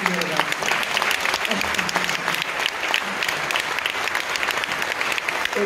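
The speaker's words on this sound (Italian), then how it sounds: "voglio un applauso doppio per i miei ragazzi" Audience applause at the final bows of an amateur Notre Dame de Paris musical, a sustained crowd of many hands clapping steadily throughout, with voices faintly heard beneath.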